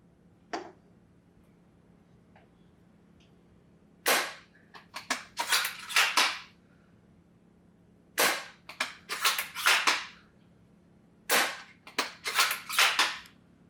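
Three groups of sharp, snappy shot cracks from a Novritsch SSG10 airsoft sniper rifle without suppressor, each a quick burst of several pops with short gaps between groups, fairly close and loud against a quiet background.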